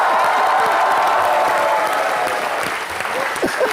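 A television comedy studio audience gives a loud, sustained round of applause. Dense clapping runs through the whole clip and thins slightly toward the end.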